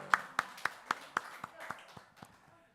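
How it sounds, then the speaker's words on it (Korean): A quick run of about ten claps from a church congregation during a Wednesday worship service starts sharp and fades steadily softer, quiet overall. "박수."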